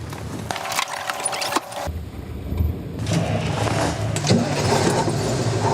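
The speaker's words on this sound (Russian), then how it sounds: "Сейчас мне предстоит управлять таким многотонным грузовиком полноприводным «Урал»" A multi-ton all-wheel-drive Ural army truck of an engineering battalion idles with a low diesel rumble, accompanied by cab clatter, keys jangling and a door shutting, steady and close, with no speech.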